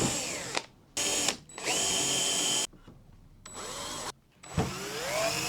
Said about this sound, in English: Right now I'm just going to temporarily drill some holes right here.